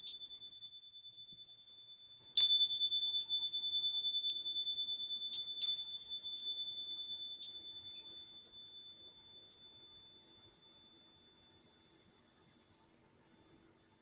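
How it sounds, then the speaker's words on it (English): A meditation bell is struck twice and rings out, a clear sustained tone that decays slowly over many seconds, heard alone in a quiet room with a faint later tap. "let me ring the bell"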